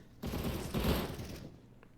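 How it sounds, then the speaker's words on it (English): A FAMAS rifle fires in quick bursts during a competitive shooter video game match, two sharp clustered volleys close and loud, then trailing off. "Deperius is getting a lot of these very crucial FAMAS kills"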